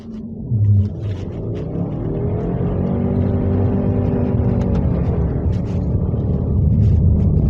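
A Subaru Levorg STI engine pulls through the gears in manual paddle-shift mode, a steady loud rumble rising in pitch and swelling as the car accelerates, heard from inside the cabin without talk.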